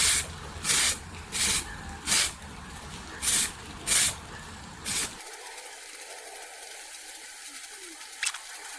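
Winsor and Newton professional fixative sprayed from an aerosol can onto a charcoal drawing in seven short, even bursts of close hiss, then a quieter hum.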